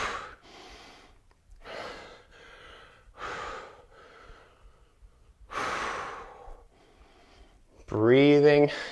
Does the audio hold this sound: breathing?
yes